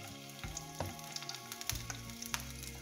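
Ginger, garlic and onion sauté in a spoonful of oil in a pan for matar paneer, a soft sizzle under a sustained tonal hum, with faint clicks of stirring and no voices.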